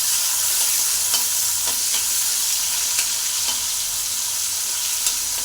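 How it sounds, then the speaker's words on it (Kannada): Chopped tomato fries in hot oil for a bitter gourd gojju, a loud, even, continuous sizzle close up with faint stirring ticks and no voices. "ಒಂದು ಟೊಮೆಟೊ ಹಾಕಿ ಫ್ರೈನ ಮಾಡ್ಕೊತೀನಿ"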